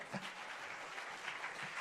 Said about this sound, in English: our audience deserves a big round of applause